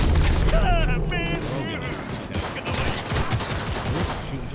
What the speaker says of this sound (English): Shooting through the windows.